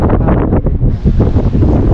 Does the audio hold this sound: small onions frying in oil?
no